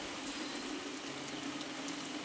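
Rain falls steadily over a village, giving a faint, even hiss with no distinct drops standing out and no voices.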